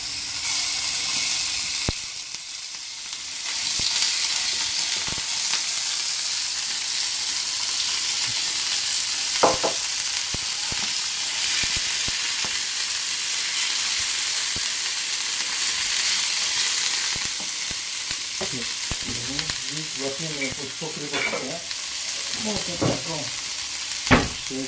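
Meat sizzles and crackles steadily in a hot pan, loud and close, with occasional stirring clinks and scraping throughout.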